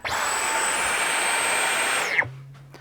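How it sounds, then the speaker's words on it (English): Dyson cordless vacuum cleaner motor running at a steady, loud high-pitched whine, then spinning down abruptly near the end into a low residual hum. "When you're actually using the vacuum"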